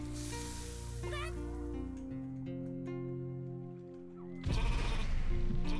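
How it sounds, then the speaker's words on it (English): Sheep bleat in the Rain on Your Parade video game, several wavering cries over a sizzling, spraying background before a sudden louder burst of noise near the end; no talking. "Oh, the sheep everywhere."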